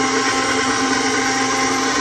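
A stand mixer beats dough for savory protein rolls at a higher speed. It gives a steady, loud, close whirring drone with no breaks.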